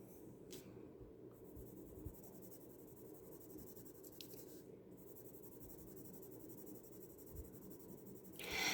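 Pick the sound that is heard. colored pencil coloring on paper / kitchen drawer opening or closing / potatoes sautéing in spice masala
colored pencil coloring on paper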